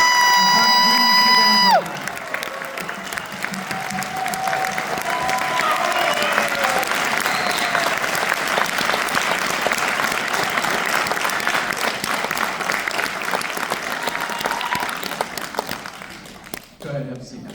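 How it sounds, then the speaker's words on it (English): A high school concert band audience bursts into sustained applause with cheering and whoops, rising after a held note and continuing loud and dense before tapering off. "Let's give these folks a round of applause for their music commitment."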